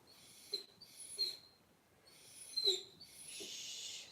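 A puppy's high, squeaky whines and yelps come in several short bursts at a live auction, fairly faint with no talk over them.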